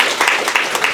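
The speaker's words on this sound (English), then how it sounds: "Give them a round of applause." A brief burst of audience applause at a youth panel event, many hands clapping in dense, steady noise.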